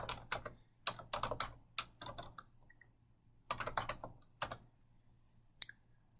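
A website address is typed on a computer keyboard in quick bursts of close, crisp key clicks, separated by short pauses and ending in a single sharper tap.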